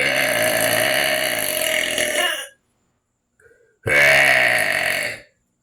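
Two long, loud, close-up burps, each a deep throaty rumble lasting a couple of seconds, separated by a short silence with a faint small sound.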